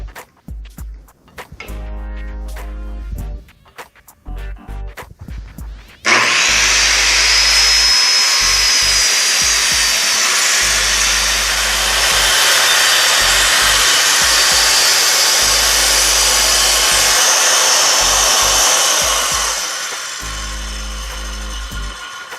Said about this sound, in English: So I'm going to go ahead and make a little bit of a wider cut with my circular saw.